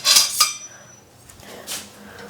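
A spoon stirs chicken soup in a pot being brought to a boil, giving two sharp metallic clinks close by, then softer scraping and a later clink.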